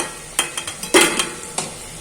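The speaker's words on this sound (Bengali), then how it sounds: "আলুটা আমি ঢাকা দিয়ে দিয়েই ভাজবো, আর মাঝে মাঝে ঢাকা তুলে নেড়ে দেব" Potatoes fry in a covered pan, a light sizzle under a handful of sharp spatula scrapes and knocks as they are stirred, close and brief.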